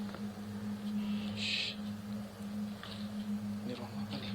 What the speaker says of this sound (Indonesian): Ada burung cuy.